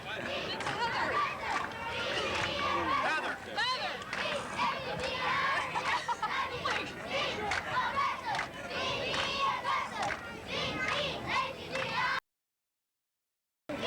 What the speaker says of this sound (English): They're doing cheers, and the crowd is cheering for them.